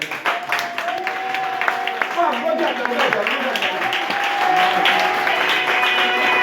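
A church congregation claps and applauds, a sustained patter of many hands with voices calling and talking over it throughout.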